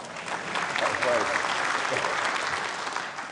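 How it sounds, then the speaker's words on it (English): Applause from the audience at a Conservative leadership campaign event in the UK, a dense and steady clapping that lasts the whole short stretch. Scattered cheers and crowd voices are mixed in. "Yes, you can applaud that as well."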